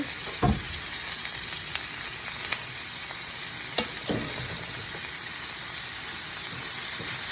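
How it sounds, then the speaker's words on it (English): Bacon and vegetables for fried cabbage sizzle steadily in a pan, a continuous close frying hiss with a few brief scrapes and clatters as they are stirred. "Go ahead and add your meat to your vegetables. Give it a good stir."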